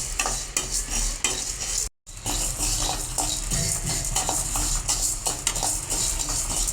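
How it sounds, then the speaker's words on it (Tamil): Cumin seeds and black pepper dry roasting in a pan, stirred with a constant dense rattling scrape that stays loud and steady apart from one short break. "சீரக மிளகை சேர்த்தே வறுத்து எடுத்துடலாம்."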